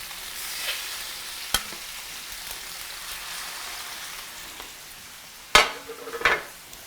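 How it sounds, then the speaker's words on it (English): Chicken chile verde ingredients sizzle and crackle steadily in a preheated pan, with a couple of sharp clinks and louder bursts of spattering near the end. "that's what you want to hear, is that nice sizzle"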